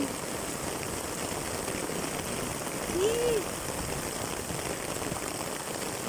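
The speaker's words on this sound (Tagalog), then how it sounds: "Ang lakas ng ulan." Heavy rain falls steadily on a walk home, a constant close hiss, with a brief excited exclamation from a voice partway through.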